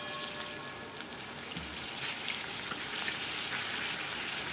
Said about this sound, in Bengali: দুধটা ফুটে উঠলো